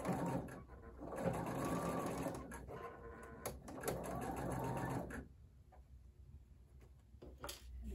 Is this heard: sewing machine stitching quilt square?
yes